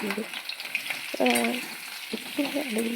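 Potatoes frying in hot oil for aloo dum, a steady sizzle with bursts of louder crackling, close and alone with no talk.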